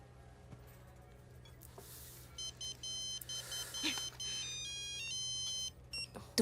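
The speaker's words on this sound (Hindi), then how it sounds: "तुम्हारी माँ का फोन है।" A phone rings with a repeating electronic melody of short beeping tones for a few seconds, moderately quiet, over faint room noise.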